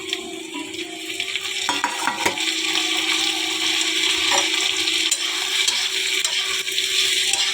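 Potatoes frying with onions in mustard oil in a pan, a steady bright sizzle with occasional stirring clinks and scrapes, close and continuous throughout.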